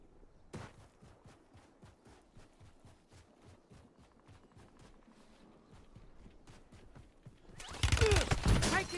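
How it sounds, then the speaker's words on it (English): Gunfire in the Warzone video game crackles as a quick run of rapid shots, followed by quieter footsteps and rattling movement, before a louder burst of shooting and explosion-like noise erupts near the end. "Taking effective fire."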